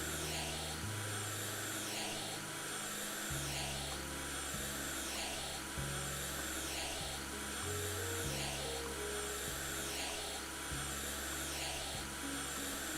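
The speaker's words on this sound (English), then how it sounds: "it's like a vacuum cleaner thing" A vacuum cleaner in the House Flipper video game runs as a loud, continuous whirring drone, its low pitch stepping up and down as it sweeps across the surface.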